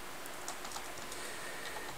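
Fingers tap out a name on a computer keyboard, a quick, light patter of key clicks set against a steady hiss of background noise.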